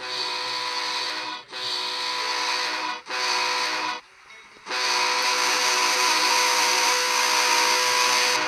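A BNSF freight train led by a Dash 9 locomotive rolls past close by, a loud continuous rumble and wheel roar with brief dips as gaps between cars go by, no voices over it.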